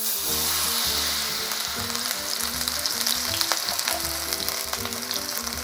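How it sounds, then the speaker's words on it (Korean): Chive pancake batter fries in a hot, oiled pan over high heat, giving a loud, dense, continuous sizzle and crackle close up, with faint background music underneath. "프라이팬에 예열이 되면 반죽 하나 떨어뜨려서 지글지글해졌을 때 반죽을 고르게 넣어주시면 됩니다."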